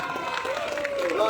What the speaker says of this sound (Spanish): Compañeros, un fuerte aplauso.